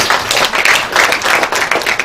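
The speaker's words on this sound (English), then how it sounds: "Can you clap yourself?" An audience at a university media career talk claps steadily for about two seconds, a dense, even patter of many hands filling the room with no voices over it.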